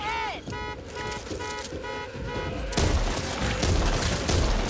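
Rapid bursts of gunfire from the Back 4 Blood video game, a dense run of shots with a blaring alarm-like tone early on and game voices mixed in, growing louder and noisier in the second half.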